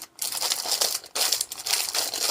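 Close-up crinkling and rustling of plastic packaging, handled and pulled in bursts with short pauses, no voices.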